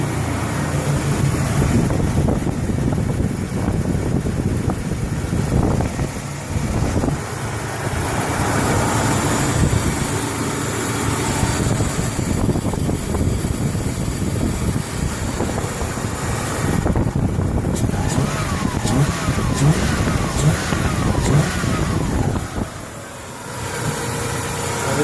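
1988 Toyota 4Runner engine running steadily up close with worn belts, a continuous mechanical drone carrying faint squeaks and rattles throughout, no voices.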